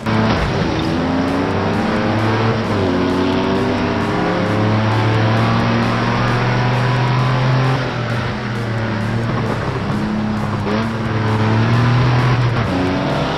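Race car engines roar in the driving video game Project Cars 2, with continuous loud high revving and gear-shift pitch sweeps as cars run close together on track.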